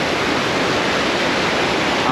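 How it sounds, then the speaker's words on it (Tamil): Loud, steady rush of river water pouring over the Thamaraipakkam check dam on the Kosasthalaiyar river, a continuous broadband roar with no pauses, close by and filling the whole scene. "இங்கே பாருங்கள், அவ்வளோ தண்ணி வருது"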